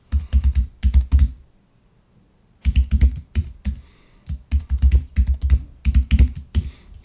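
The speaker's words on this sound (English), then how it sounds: "It asks you to type your password in twice, just to make sure that you're typing it correctly." A password is typed on a computer keyboard in two close bursts of quick, crisp keystrokes separated by a short silent pause, with no voices.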